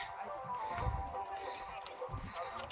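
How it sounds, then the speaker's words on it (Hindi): Horses and mules climbing a steep mountain pilgrimage trail on the Amarnath Yatra, their hooves clip-clopping in an irregular, close rhythm beneath steady crowd noise and people talking. "आप देख सकते हैं कि कैसे घोड़ों को चढ़ने में कैसे परेशानी हो रहा है"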